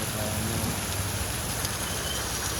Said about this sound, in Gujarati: કેવો વરસાદ આવે